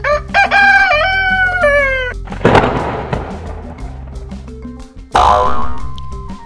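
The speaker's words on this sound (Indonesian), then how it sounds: "A untuk ayam." A rooster crows one loud, drawn-out cock-a-doodle-doo up close, with a cartoonish boing and a few clucks around it.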